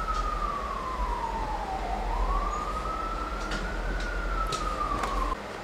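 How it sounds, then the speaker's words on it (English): An emergency vehicle siren in New York City wails steadily, its pitch sliding down then back up, over a constant low rumble of traffic. "Sirens."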